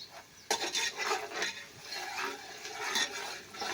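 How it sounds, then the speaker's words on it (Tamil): Green chilies tossed and stirred in a pan of frying masala for mutton biryani, giving a steady close scraping and sizzling with sharp spatula clatters against the metal and no voices. "இப்போ பச்சை மிளகாய் போட்டுடலாம்."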